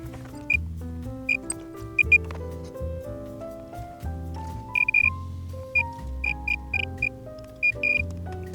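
Repaired vintage Cupid's Arrow LCD handheld from Egypt plays a stepped sequence of electronic tones climbing in pitch, with short sharp beeps and clicks scattered over it, close and clear.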